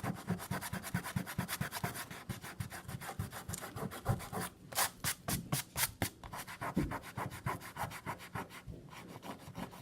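Dried rubber cement rubbed off watercolor paper produces a close, continuous scratchy rubbing in quick back-and-forth strokes, with a brief pause midway, and no voices.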